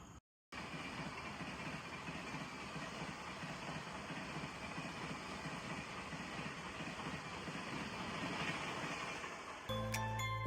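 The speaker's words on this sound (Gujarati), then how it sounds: "ટ્રેન આવી ગઈ છે, બહુ ધીમે ધીમે ચાલે છે." A train rumbles steadily at close range with a constant low engine drone, slowly rolling into a station platform, ending in a brief tonal horn or signal.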